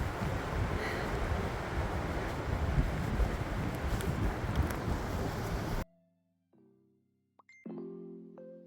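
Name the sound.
strong wind blowing on a hiking trail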